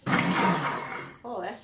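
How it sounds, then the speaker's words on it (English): A Pampered Chef Deluxe blender pulses pesto dressing, giving a loud whirring motor roar that eases off, cuts out briefly, then starts again for a second pulse, with talking over it. "Now we have lots of functions on our blender, and this blender is, I'm going to just use pulse, so watch how it works."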